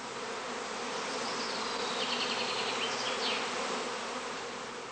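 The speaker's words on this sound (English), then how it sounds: "On the branches, swarming bees soon form a new cluster again." Swarming honeybees in a heather skep apiary, their dense, steady buzz filling the air close by without pause, with no voices over it.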